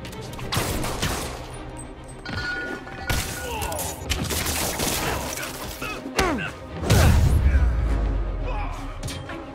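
Gunfire and crashing impacts from a Marvel's Spider-Man fight against armed thugs, loud bursts and smashes spread through the scene with a heavy thudding surge near the end.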